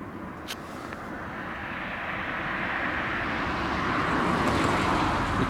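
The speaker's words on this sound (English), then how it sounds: "So I think we've got a Ryanair that's just about to do a circuit here." A Ryanair airliner at London Stansted Airport roars steadily as it readies to fly a circuit, its broadband engine noise swelling gradually louder over several seconds with no talk.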